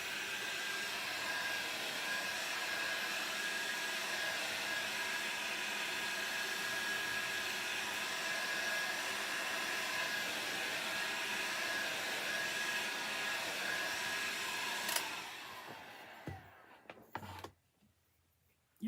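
A hair dryer blows steadily on a paper printable craft project, a loud even whoosh with a faint whine that runs unbroken for about fifteen seconds before clicking off and fading out, followed by brief handling noises.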